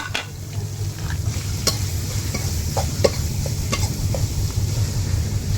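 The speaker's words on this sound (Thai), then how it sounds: "ผัดนกนะครับวันนี้" Bird meat stir-fried in a pan over a wood fire, a steady close sizzle with scattered spatula clinks and scrapes, no voices.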